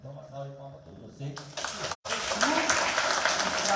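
Applause from an audience at a book fair launch, rising suddenly after a short stretch of speech and continuing as a broad, steady wash of clapping with a brief dropout.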